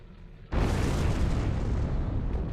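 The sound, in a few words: ship explosion in video game Star Trek Online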